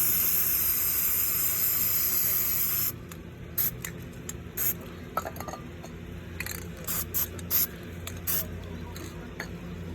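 A spray can spraying paint onto a Lexan RC crawler body shell: a loud, steady hiss for about three seconds, then quiet with scattered short clicks and rattles.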